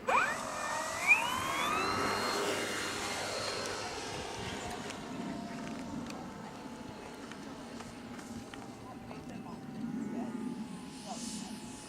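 An RC model airplane buzzes overhead at an RC field on a windy day, its whining motor pitch sliding up and down as it passes, with wind noise and people talking.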